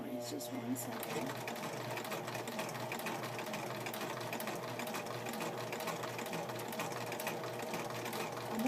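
A home sewing machine hums steadily as it stitches a quilt hem, with a constant fast needle chatter at close range and faint talking mixed in.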